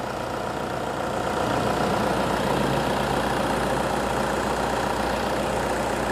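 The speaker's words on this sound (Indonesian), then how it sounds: "dari mesin sudah bisa hidup kembali. Suaranya pun sudah cukup bersih" A rebuilt Toyota Innova 2KD diesel engine idles steadily and loudly, with a constant low rumble and rough mechanical clatter that continues without a break.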